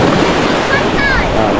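Rough sea waves wash up a beach after a typhoon has passed, a loud, continuous surging roar with gusting wind close to the microphone.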